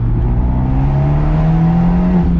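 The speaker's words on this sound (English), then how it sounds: "This car does still sound good with the standard exhaust on" An Abarth 124 Spider engine with the standard exhaust hums steadily and climbs gently in pitch as it revs, a smooth, moderately loud drone close by.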